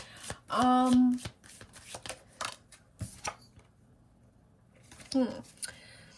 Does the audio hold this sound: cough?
no